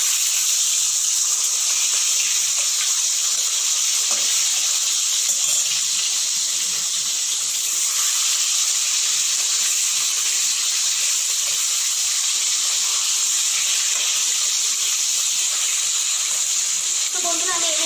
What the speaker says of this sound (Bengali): তো আমি একে একে মাছগুলো দিয়ে দিচ্ছি। তেলটা খুব ভালোভাবে গরম হয়ে গেছে।